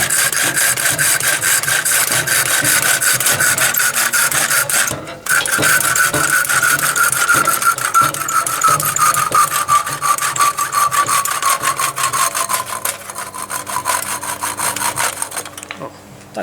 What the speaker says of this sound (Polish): Przy samej tutaj końcówce już w ogóle nie naciskamy na piłę